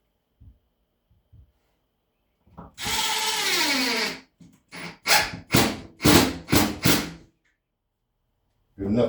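Power drill driving screws into drywall: one long whirring run followed by several short bursts of drilling in quick succession, close and loud, with brief talk around them.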